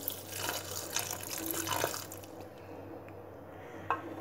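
Water poured into a pot of brinjal (eggplant) for kothsu, a steady splashing pour for about two seconds, then settling into faint trickles and drips with a small clink near the end.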